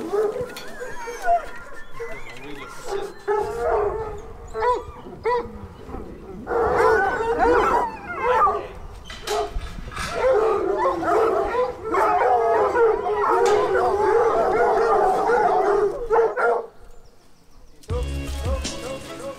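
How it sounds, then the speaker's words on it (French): Several hunting hounds howl and bay together in a sustained chorus as they are called in after a hunt with hounds, with yips and barks mixed in, fairly close, and a voice briefly audible near the end. "la chasse est terminée, là, ils font l'appel des chiens"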